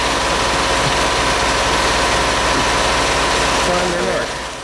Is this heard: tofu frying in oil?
no